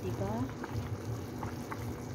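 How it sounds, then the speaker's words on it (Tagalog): Chinese-style soup boiling in a pot, soft bubbling and gurgling liquid at close range, simmering steadily under a person's voice talking over it. "Kumukulo-kulo na siya"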